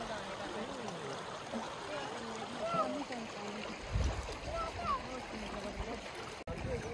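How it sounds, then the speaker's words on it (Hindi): A river in the Chatra countryside flows with a steady, broad rushing wash that stays even throughout, with faint voices murmuring in the background. "और ये रही हमारी नदी।"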